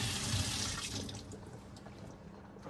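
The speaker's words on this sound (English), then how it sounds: "Now let me just wash it out, give it a little wash." Fish being rinsed under a running kitchen tap, a close, steady hiss of flowing water splashing into a sink that softens and thins toward the end, with no talk.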